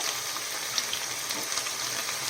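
Chicken goes into a hot pan of oil with onion and spring onion greens, giving a constant, fairly loud hiss of sizzling frying with faint crackles throughout.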